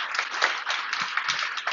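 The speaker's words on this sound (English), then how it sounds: "We have a quick round of applause for them both" An audience at a Toronto HR health and wellness event gives a quick burst of applause, many hands clapping in a dense, steady patter close by.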